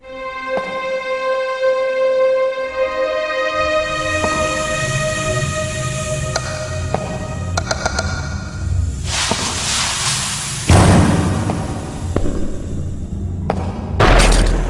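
Eerie ghost sound effects from a Wii video game: sustained tonal drones and chimes, then heavy booms, crashes and bursts of noise that build and break off.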